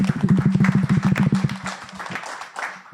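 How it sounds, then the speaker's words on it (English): Audience applause for a panelist at a Holacracy meetup panel discussion in Amsterdam. Rapid, fairly close clapping mixed with a low hum sounds for about three seconds, then thins out. "Give him an applause"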